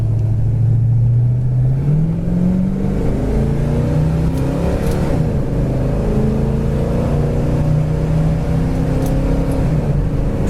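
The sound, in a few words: 1972 Chevelle accelerating through the gears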